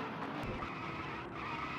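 Car tires spinning and skidding on dirt in the Dirt to Daytona racing game, a continuous loud gritty squeal and engine roar with no breaks.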